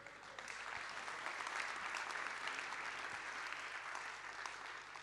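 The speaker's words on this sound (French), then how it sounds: "Vous pouvez déjà vous applaudir pour nous mettre en forme." A large audience of around 500 guests at a tourism awards evening in Pau applauds steadily for several seconds, a thick wash of clapping heard from a distance at low volume.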